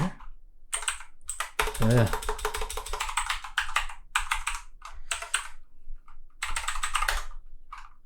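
Rapid typing on a computer keyboard in bursts of clicks with short pauses between, fairly close, while someone speaks over part of it.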